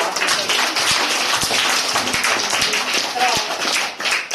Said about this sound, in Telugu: పింగళి వెంకయ్య గారికి ఈ క్లాప్స్ కొట్టండి